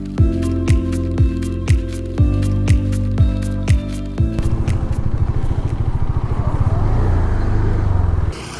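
Motorcycle riding along a double-lane highway in India toward Arunachal Pradesh, steady engine drone and road noise, with rhythmic mechanical thumps early on giving way to a continuous rushing hum.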